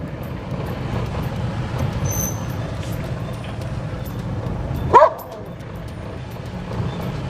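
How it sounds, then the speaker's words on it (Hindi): Street dogs bark on a residential lane in Delhi's Vasant Kunj area early in the morning, a short loud burst near the middle standing out over steady traffic and engine rumble. "गली में सब कुत्ते हमको गुस्सा कर रहे हैं कि सुबह सुबह हम उठ चले हैं।"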